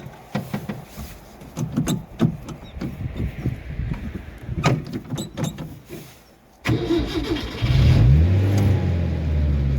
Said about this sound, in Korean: 자, 시동 한번 걸어볼게.